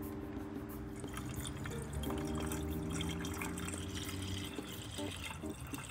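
Antifreeze coolant trickles and drips into the cooling system of a BMW E92 M3, a faint steady liquid fill with small drips and a sustained hum in the background.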